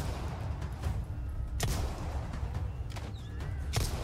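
Gunfire in Resident Evil 4 Remake, with a few sharp shots cracking over a dense, rumbling game soundscape.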